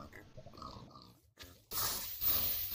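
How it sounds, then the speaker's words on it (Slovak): Pigs in a build battle video game grunt and oink in short bursts, followed by a louder, rougher stretch of game noise toward the end. "za 30 minút mám tu takto prasata"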